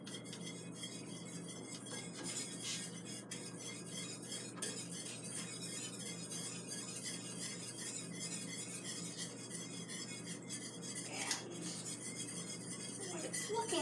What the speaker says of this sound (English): So we're going to keep whisking.